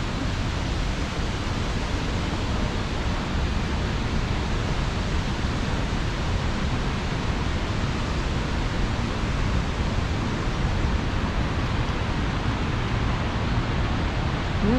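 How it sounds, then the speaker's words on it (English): Waterfalls at Niagara Falls State Park, heard as a loud, constant broadband roar of rushing water that stays steady without a break. "We're surrounded by waterfalls"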